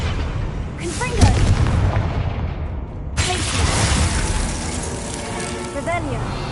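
A Confringo fire spell blasts in a Harry Potter video game, a loud booming burst with a crackling mechanical tail, followed by a second sharp surge, while a voice talks over it.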